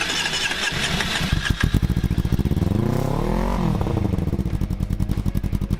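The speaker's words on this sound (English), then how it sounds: "start the engine" A TDR motorcycle engine just refilled with fresh oil cranks, fires up loud and close, briefly revs with rising and falling pitch, then settles into a rapid, clattering idle.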